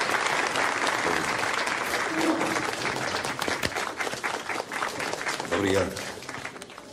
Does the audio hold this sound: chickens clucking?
no